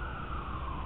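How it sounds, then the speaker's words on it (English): Fire truck sirens wail steadily at a distance, a faint continuous tone with no voices over it. "And you hear the fire truck sirens again"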